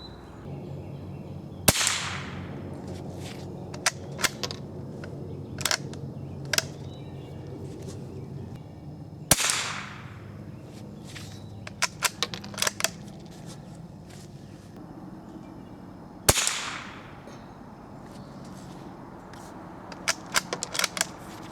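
Three sharp, quiet cracks of CCI subsonic 45-grain .22 LR rifle shots ring out several seconds apart, each followed by faint clicks and handling noises.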